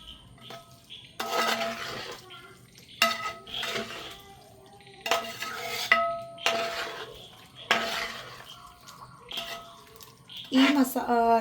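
Water poured into fried chicken masala for biryani and stirred in a pot, with a spoon clinking and scraping in repeated bursts under a nearby voice.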